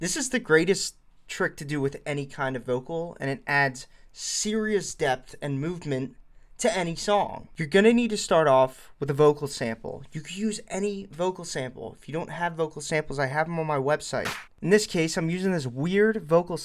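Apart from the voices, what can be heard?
None of the usual background noises is heard.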